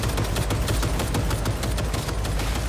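Rapid turret gunfire from the video game Cyberpunk 2077, a dense, steady stream of close, loud shots with no pauses across the whole stretch.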